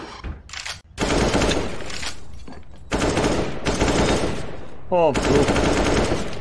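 Rapid automatic gunfire in CS GO rattles out in repeated loud bursts, with short gaps between strings of shots, while someone talks and laughs over it.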